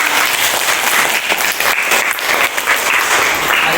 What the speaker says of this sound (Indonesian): Semangat sekali, beri tepuk tangan untuk kita.